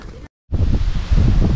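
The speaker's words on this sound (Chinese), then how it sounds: "我们一走上来，这儿就是大风，这个地方是正好是个风口。" Strong wind roaring across an exposed mountain pass, loud rumbling buffeting with a brief dropout near the start, then steady gusty noise.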